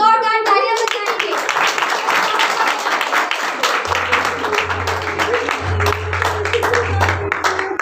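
A church congregation at a Sunday service claps loudly and steadily for the pastor, a dense, sustained burst of applause that fills the whole stretch, with a low held tone entering partway through.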